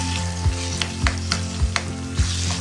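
Masala for a Kerala-style fish biryani sautés in a pan, a close, steady sizzle punctuated by four or five regular thumps and scrapes of the spatula, with no voices.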